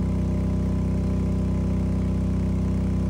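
A generator runs steadily before its automatic shut-off, producing a loud, constant low engine drone with an even pulsing throb, close by and uninterrupted.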